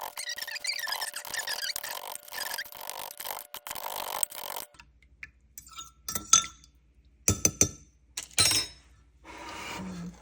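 A spoon stirs a yogurt mixture in a glass container, giving quick clinks and scraping squeaks against the glass, first in a dense run of strokes and then in separate sharp bursts, close and fairly quiet.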